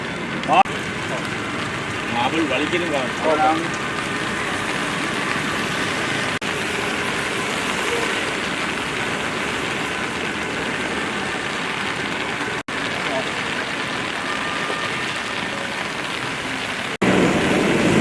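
Heavy pouring rain falls steadily throughout a Gandhi memorial commemoration in Batticaloa, a dense, continuous wash of noise with faint voices and traffic murmuring underneath.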